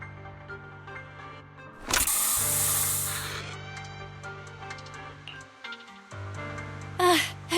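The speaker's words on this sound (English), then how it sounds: "Here, have a taste of this special Bangboo spray." A hissing spray burst from a special Bangboo spray in the Zenless Zone Zero video game, about a second long and fairly loud, over steady background music, with small mechanical clicks and chirps afterward.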